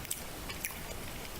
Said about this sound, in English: This is a chewing with your mouth open one.